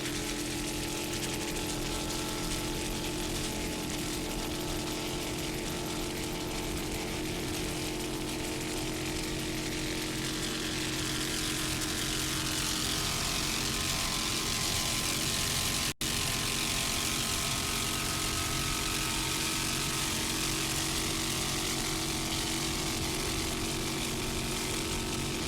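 Offshore racing powerboat with a 650-horsepower GM engine at the Buffalo Offshore Challenge: a constant loud, dense engine roar with no letup for the whole stretch.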